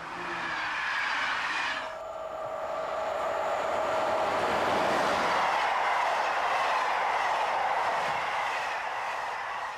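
A train runs at speed on the Bruges to Brussels main line in Belgium, a loud, sustained rumbling roar with steady rolling rail noise, swelling slightly as it passes close by.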